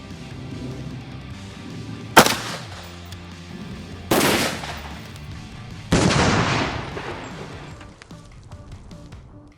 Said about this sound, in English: when I shot the cantaloupe, because of all the velocity and the power, it made it roll